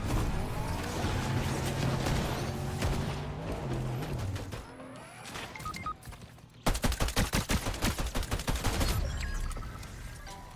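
Rapid bursts of video game gunfire, heavy sustained shooting early on, then sharp repeated sniper-style cracks in a fast rhythm near the end, loud and close with no talk.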